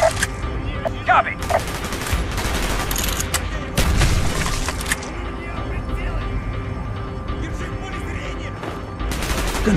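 Gunfire in the PC game Call of Duty: Black Ops, bursts of rapid automatic shots and booms in a busy battle mix, with shouted voices over the shooting.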